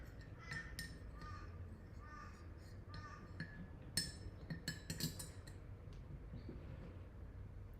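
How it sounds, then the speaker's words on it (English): Crows caw in the background on an early Australian morning, faint and distant, with a few clinks and taps nearby and a quiet voice now and then. "What's the noise in the background? It's probably crows."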